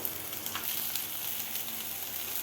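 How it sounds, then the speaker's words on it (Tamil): Chopped onions sautéing with asafoetida powder in a pan make a steady, moderately loud sizzle, with a few light stirring clicks near the start. "கட் பண்ணி வச்சுருக்க ரெண்டு வெங்காயம் இதையும் சேர்த்து நல்லா வதக்க போகிறோம்"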